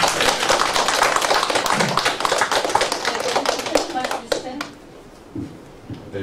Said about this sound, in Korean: 박수 한번 보낼까요?